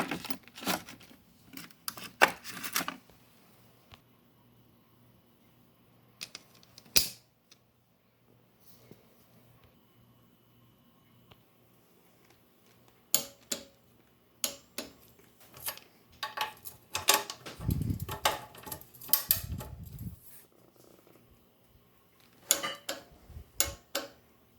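Metal header nuts on a mini bike's exhaust studs being tightened, giving scattered clicks, ratchet ticks and small metallic clinks in short bursts separated by quiet stretches, close by with no talk.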